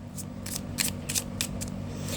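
Tarot cards shuffled by hand in a quiet room, with a quick run of about seven soft riffling bursts close to the listener over a faint low hum.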